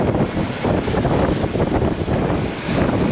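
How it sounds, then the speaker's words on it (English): Gusty wind buffets the microphone aboard a sailing boat, a loud, continuous roar with rushing low-frequency bursts that holds steady for a few seconds, with no voices. "I've got to turn it round because it's a bit windy now where we are."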